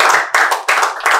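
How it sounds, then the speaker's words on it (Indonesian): A student audience at a dialogue forum claps hands in three short, loud bursts of rhythmic clapping, each cut off abruptly, close and brief. "Tepuk tangan dulu buat provinsi."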